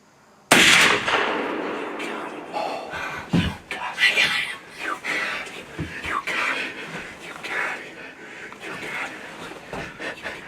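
A single sharp, loud rifle shot fired at a young buck while deer hunting, followed by quieter rustling and a voice speaking softly.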